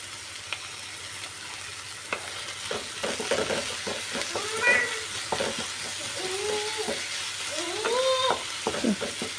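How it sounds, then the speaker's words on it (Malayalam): Chopped onions with salt sautéing in a pan for kovakka mezhukkupuratti, a steady soft sizzle with occasional stirring scrapes, close and moderately loud, with no talking. "ഇത് ജസ്റ്റ് ഒന്ന് സോട്ടായി ട്രാൻസ്പെറൻ്റായി വരുന്നത് വരെ നമുക്കൊന്ന് വെയിറ്റ് ചെയ്യാം."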